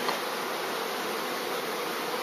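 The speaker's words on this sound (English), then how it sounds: "there's so much bees in there" Package bees being hived in Donegal fill the air with a dense, steady buzz, loud and close, unbroken for the whole moment with no voices over it.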